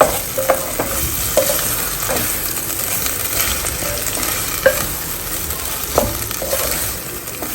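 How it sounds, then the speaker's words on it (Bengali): A vegetable dish cooking in mustard oil, stirred briskly in a pan: a loud, continuous sizzle broken by repeated spoon scrapes and clinks against the metal, close up, with no voices. "দিয়ে এটাকে ভালো করে নেড়ে টেড়ে দেবো"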